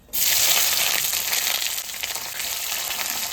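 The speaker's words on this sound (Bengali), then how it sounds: "তেল দিয়ে দেবো জিরে তেজপাতা শুকনো লঙ্কা এবার পেঁয়াজটা দিয়ে দেবো" Onion, cumin, bay leaf and dried chilli hit hot oil and burst into a loud, close sizzle that starts abruptly and then settles into a steady frying hiss with no one speaking.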